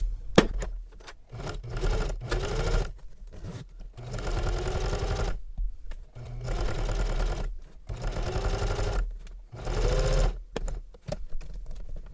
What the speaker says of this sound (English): And then top stitch it across the top.